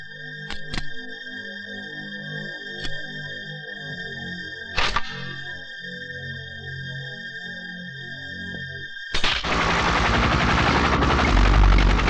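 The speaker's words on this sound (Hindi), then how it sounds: "कानिया हेलीकॉप्टर में आ रहा है" A helicopter's rotor thumps in a steady low pulse under a high whine, with a few sharp clicks, before a loud rushing roar takes over near the end.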